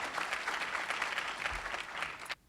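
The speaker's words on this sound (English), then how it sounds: "let's give CUNY a round of applause" At a business association luncheon, a room of attendees gives a brief round of applause that is fairly quiet and distant. The clapping cuts off abruptly after about two seconds.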